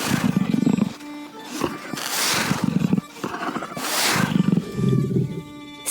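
A lion roars in a storybook setting, deep rumbling bursts repeating several times with breathy pauses between, loud and close, no talk over it.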